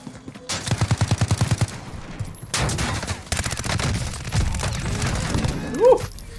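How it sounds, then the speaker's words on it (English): Bursts of rapid automatic gunfire from an enemy team in Call of Duty: Warzone, a fast rattling volley followed by further sustained shooting and clatter, loud and close, with a brief player voice near the end. "It was another team shooting them."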